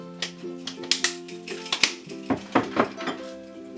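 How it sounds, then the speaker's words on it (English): A series of sharp plastic-and-glass clicks and snaps as a lid is pressed down and latched, close up and fairly quiet. "Snap the lid."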